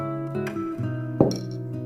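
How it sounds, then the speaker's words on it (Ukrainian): A glass of water is set down with a single sharp clink, heard at a painting table beside a ceramic tile, gouache and a brush. It rises briefly over a steady tonal background. "склянка з водою"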